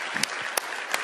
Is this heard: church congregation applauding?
yes